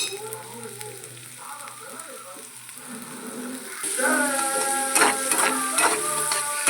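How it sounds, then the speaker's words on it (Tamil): Spleen fry sautéing in a pan with onions and curry leaves, a steady sizzle that grows louder and busier partway through as the leaves go in, with scraping stirs and background music. "நல்லா வதக்கலாம் கருவேப்பிலை போட்டுக்கலாம்"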